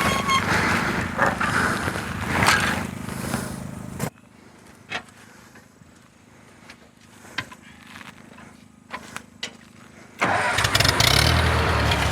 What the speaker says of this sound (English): Oh, the PTO is going to kick on.